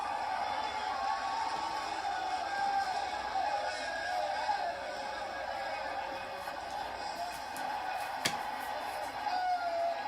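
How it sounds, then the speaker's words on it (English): A lively baseball stadium crowd at a Reds–Phillies game keeps up a steady, dense roar and murmur, with a brief louder swell near the end and no clear voices standing out. "The crowd seems a little lively today, don't they?"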